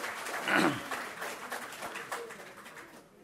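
Audience applause at a Kannada talk on humor and humorists, a soft, scattered clapping that swells briefly near the start and then tapers off, fairly distant and faint.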